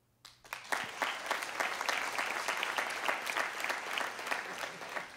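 A stand-up comedy audience breaks into applause after a brief quiet moment. The clapping is dense and sustained, with steady crowd hand claps filling the room to the end.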